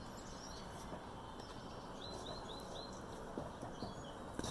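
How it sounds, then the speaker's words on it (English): Birds chirping outdoors, faint high calls in short runs over a steady background hiss, heard from a kitchen with no talking. "Ooh, nice bird noises."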